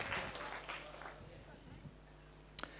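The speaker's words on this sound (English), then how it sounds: "Give him a round of applause" A small workshop audience at a real estate investing event gives a brief, thin round of applause for a volunteer, with scattered clapping and some talk underneath.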